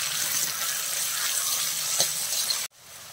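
Three chopped onions sautéing in a pan for a fish head curry, a steady hissing sizzle with one small stir, then the sound cuts out abruptly.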